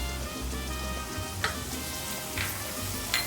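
Cinnamon and clove sizzle in hot oil with translucent onion, a steady close frying hiss broken by a few brief stirring scrapes.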